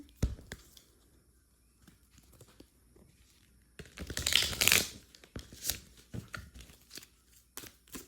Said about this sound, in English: give it a good little riffle shuffle here